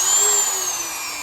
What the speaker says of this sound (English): We're just using this little wire wheel right here to clean this up, and it is working phenomenal because there's a little rust buildup